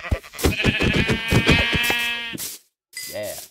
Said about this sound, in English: Oh, ooh, sheep.